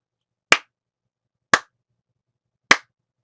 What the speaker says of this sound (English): just take a deep breath and clap or snap sharply and quickly 3 times